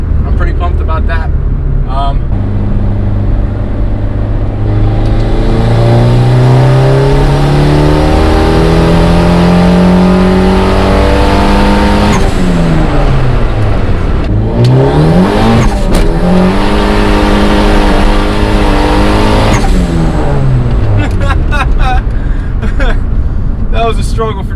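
Turbocharged Honda Accord accelerating hard on a street, engine revving up through several rising sweeps with gear changes, loud and close, with traction struggles and a brief squeal, voices faintly underneath.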